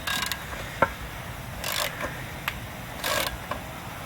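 A wrench works a heated fitting out of an aluminum Mopar intake manifold, giving a few short metallic clicks and scraping ratchet-like bursts spaced over a few seconds against a quiet background.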